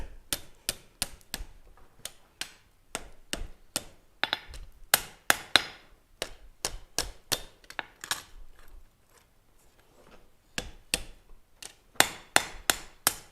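Hot steel hammered on an anvil during a gas forge session, a close series of sharp ringing strikes in quick rhythmic bursts with a brief pause midway.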